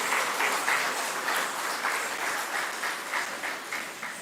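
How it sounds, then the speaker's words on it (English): Sustained audience applause at a Divali dinner and cultural event in Mayaro, a dense, steady wash of many hands clapping at moderate volume, continuing without pause and with no voices over it. "I do believe that that deserves another round of applause"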